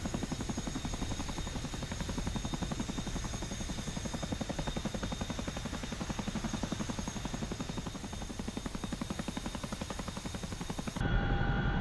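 A Chinook helicopter in the DCS flight simulator drones steadily with a loud, continuous rotor thump and turbine whine, holding constant throughout before abruptly cutting off at the end.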